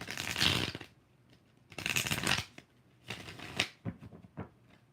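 Tarot cards are shuffled in four distinct riffling bursts, close and crisp, separated by short pauses with faint handling noise between.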